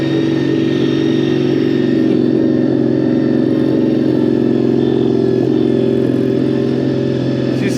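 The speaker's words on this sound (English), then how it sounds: "400 cc. V4 engine." A Honda 400 cc V4 motorcycle engine idles loudly and close by, a steady, even thrum with a constant low pulse throughout.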